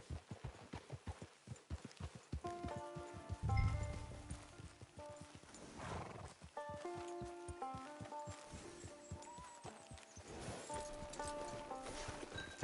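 Video game horse hooves clip-clop at a steady walking rhythm, close and clear, with soft melodic game music tones playing alongside.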